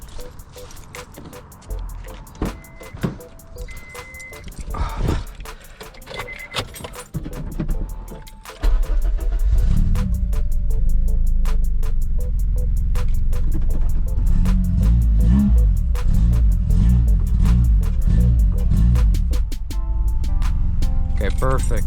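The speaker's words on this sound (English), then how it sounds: "We're gonna go start the car and make sure everything's running properly." Keys jangle, then an Acura RSX, freshly fitted with new spark plugs, cranks and starts. The engine settles into a loud, steady idle that runs close by until the end.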